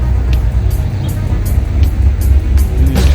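A Chevrolet Corvette at an exotic car event gives off a steady, close engine rumble with a broad roar of road and wind noise over about three seconds.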